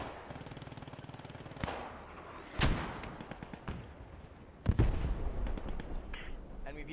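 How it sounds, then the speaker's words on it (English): Gunfire from a friendly aircraft strafing run in Post Scriptum, heard as a rattle of rapid bursts and sharp, loud cracks and booms that recur irregularly across the stretch, along with some distant battle noise. "All squads, friendly strafing run coming in on west side of objective"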